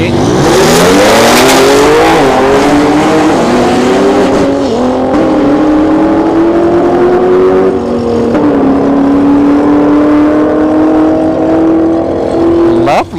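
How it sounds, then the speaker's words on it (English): A Cadillac ATS-V and a Pontiac G8 drag race at Orlando Speed World during the Cadillac Attack event, their engines roaring loud and close and climbing steadily in pitch through hard acceleration. "ATSV here on the left, right lane is a G8, Pontiac G8."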